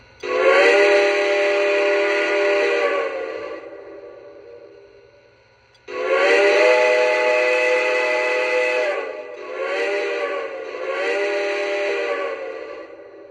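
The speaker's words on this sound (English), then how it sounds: "here is the whistle that I chose for this video" A model Strasburg Camelback 771 steam locomotive whistle sounds two long, bright harmonic blasts with reverb, then two shorter blasts in quick succession, loud and clear with no voices.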